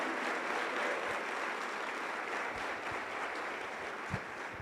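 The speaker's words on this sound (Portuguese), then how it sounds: "Você pode aplaudir o dono de tudo e de todos?" A church congregation applauding during a sermon, a steady, even rush of many hands clapping at moderate distance, continuous and without talk over it.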